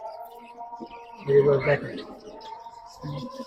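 Domestic pigeons at a Bangladeshi pet shop give low cooing calls, one fuller burst of coos mid-clip and a shorter one near the end, against a faint steady background hum.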